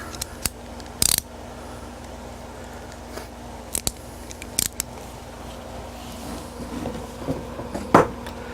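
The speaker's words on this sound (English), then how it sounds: "I can get that with a regular ratchet driver" A ratchet driver working a screw out of a Star Wars arcade cabinet, giving a few sharp metallic clicks and ratcheting bursts spaced apart over a quiet steady hum.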